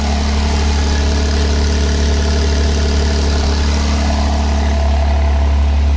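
A Porsche 911T engine runs steadily close by with a deep, loud idle, and a throttle blip lifts the revs only slightly toward the end; no one speaks.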